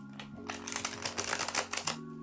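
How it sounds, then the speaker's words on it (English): A tarot deck, Brady Tarot 2nd Edition, is riffle shuffled in one quick pass: a dense, fluttering burst of card edges snapping together over about a second and a half, close and fairly loud, with a low hum in the background. "Okay, and then riffle shuffling."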